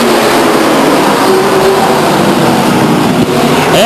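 Race cars accelerating together at the green flag at Stockton 99 Speedway in 1999, a loud, continuous engine roar with rising revs filling the whole stretch, close by and steady, with no talk over it.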